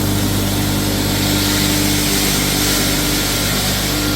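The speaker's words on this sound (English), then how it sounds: "There's hammers swinging around in a screen that grinds it all into small pieces." A loud, constant mechanical roar with a steady hum and gritty rushing noise from a hammer mill grinding animal feed, hammers swinging inside a screen, continuing without pause.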